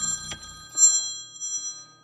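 A phone's timer alarm sounds nearby, a short bright electronic ring with sustained tones that fade after a moment in an otherwise quiet room.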